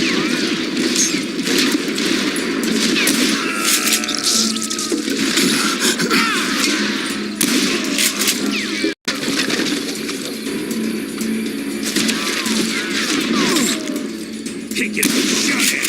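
Gunfire in the Western shooter game Call of Juarez Gunslinger, with dense, continuous volleys of shots and booms that run loud through the whole stretch. There is one brief dropout midway.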